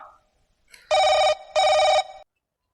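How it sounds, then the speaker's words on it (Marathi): A phone rings twice, two loud electronic trills with a short pause between, then silence. "कोणाचा फोन आला रे बाबा?"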